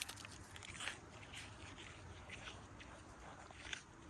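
Buck deer chewing a big piece of food at dinner time outdoors, soft, close, irregular crunching and biting that continues steadily, with occasional sharper crunches over a quiet background.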